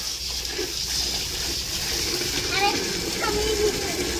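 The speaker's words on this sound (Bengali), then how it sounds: "দাঁড়াও, জলটা বন্ধ করি।" Water runs from a tap at bath time in a home, a steady hissing gush that continues throughout while a child and an adult talk over it.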